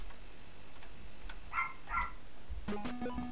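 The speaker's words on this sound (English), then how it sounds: "You hear my little dog in the background there." A small pet dog yaps a few times in the background, two short bursts near the middle followed by brief tonal blips, faint and somewhat distant, with no one talking over it.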